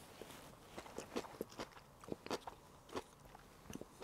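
Crunchy daikon radish and carrots are chewed close up in a quiet room, giving a string of soft irregular crunching bites with short pauses between them.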